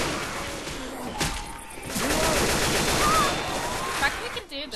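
Video game gunfire, a dense stretch of continuous shots and crashes at high level, with no clear pauses between bursts.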